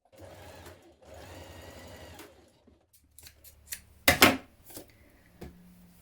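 A sewing machine runs in two short bursts as it joins the short edges of a kaftan dress casing with a 1 cm seam, then comes a sharp snip of scissors and some light handling noise.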